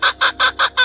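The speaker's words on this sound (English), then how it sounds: "Hen" A hen clucks five times in quick, even succession, loud and close with nothing else heard.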